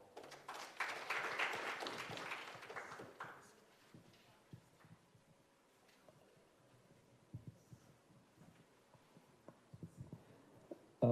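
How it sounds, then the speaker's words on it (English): A conference audience applauds in a burst of clapping that swells for roughly three seconds and then fades, followed by a quieter stretch with scattered knocks and shuffling noises. "one last round of applause for"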